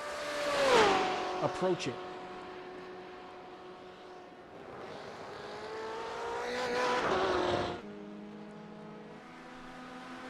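Race cars exiting the first chicane in a Le Mans sportscar championship race, engines rising in pitch as they accelerate away, with a brief downshift burst early and a second car surging past, all under race commentary.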